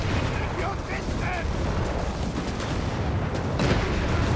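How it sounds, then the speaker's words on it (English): Battle sounds from Company of Heroes 3 as an anti-tank rifle and gunfire hit a Crusader tank: dense, continuous booms and rattling shots layered into a loud, rumbling wall of combat noise. "anti-tank rifle and the Crusader tank plus the pack gun there, doing immense damage to the Crusader tank"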